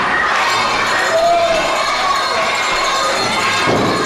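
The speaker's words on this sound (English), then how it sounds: "These kids are going crazy. The crowd is loving it." Crowd of kids cheering and shouting at a live wrestling show, a dense, loud, continuous roar of young voices filling the whole stretch.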